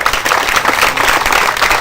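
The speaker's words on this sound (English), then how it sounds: "Let's give our actors a round of applause." An audience applauds actors after a staged performance about a knife fight, a dense, steady burst of clapping at close range with no voices over it.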